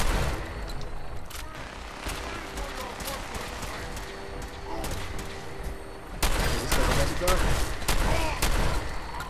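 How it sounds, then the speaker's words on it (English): Gunfire rattles in Fallout 4 amid chaos in the Glowing Sea, rapid sharp shots rising in intensity later on, with speech present under the din. "I'm running out of bullets for this freaking gun."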